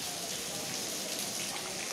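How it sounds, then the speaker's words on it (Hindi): Heavy rain pours down in a dense, steady hiss, loud and close, with no breaks and no voices. "देखिए कितनी तेज़ बारिश हो रही है"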